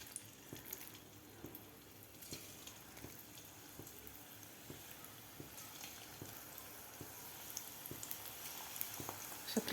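Taro leaf bhaji fry in hot oil in a kadhai, a faint, steady sizzle with scattered soft pops and crackles recorded close by.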